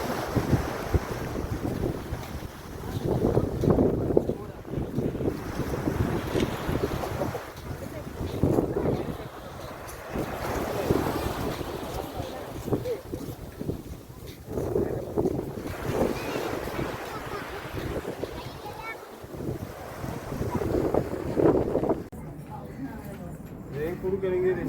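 Steady wind rumble and surging sea noise at the shore, with waves swelling and easing throughout; voices murmur in the background.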